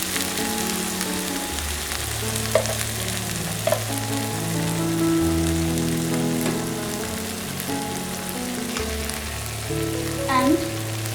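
Ghee hits hot tandoori chicken do pyaza in the pan with the flame just turned off, giving an even sizzling crackle beneath prominent background music and a few sharp clicks.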